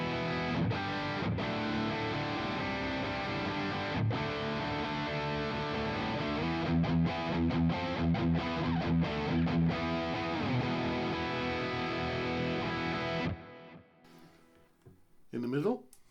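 A clean-ish electric guitar through a Boss GX-10 high-gain amp model at lowest gain, with light crunch, plays sustained chords and a few picked notes, ringing steadily before cutting off, followed by faint handling noise.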